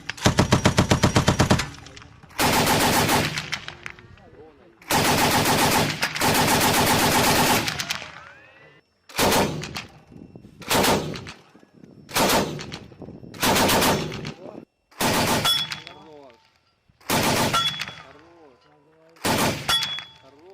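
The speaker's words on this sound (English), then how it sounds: "they're going to practice training on the machine gun, which they keep on the top for close quarters" Machine gun mounted on top of a Challenger tank fires during troop training in a muddy area, loud bursts of automatic fire repeating in about nine separate volleys, each a second or two long, with short pauses between.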